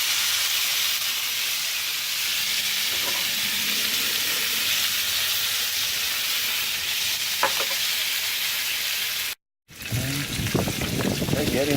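Bacon sizzling on a smoker or grill while cheesy bacon shrimp cooks, a loud continuous crackling hiss with occasional utensil taps, briefly cut off near the end before resuming.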